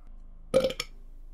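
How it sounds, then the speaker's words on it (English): A single loud, guttural burp from a character in the Dead Space Remake video game, a short croaking eructation with a quick second pulse, heard alone over a quiet low hum. "How dare you burp like that?"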